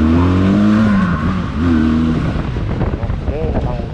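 A Benelli TRX 502X motorcycle engine on a test ride, revving up and down in loud close surges with wind noise, a voice talking briefly over it.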